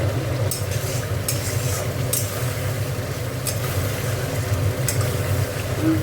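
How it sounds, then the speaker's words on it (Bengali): Fish curry gravy for a shol fish dish, made with cumin paste and chilli powder, sautéed in a pan: a continuous close sizzle broken by intermittent scraping stirs of a spoon, with low murmuring in the background. "গ্রেভিটা কি সুন্দর হয়েছে, অনেকক্ষণ ধরে কষছি, আর একটু কষবো"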